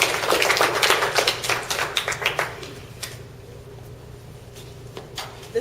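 A small crowd claps at an indoor breakfast gathering, a burst of dense applause fading into scattered, quieter claps after a few seconds, over a steady low room hum.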